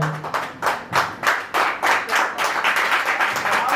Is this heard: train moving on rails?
no